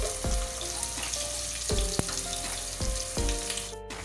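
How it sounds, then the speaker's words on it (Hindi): Onions frying in hot oil toward golden brown, a steady close sizzle broken by a few sharp clinks and scrapes of a utensil against the pan, with no talk. "प्याज को 1 से 2 मिनट लगेंगे इनको गोल्डन ब्राउन होने में।"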